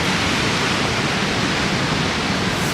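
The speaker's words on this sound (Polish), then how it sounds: "Zobaczcie ile wody spływa." Glacier meltwater from Nigardsbreen in Norway pours downhill in a loud, steady, unbroken rush that fills the whole scene like a waterfall, with no voices.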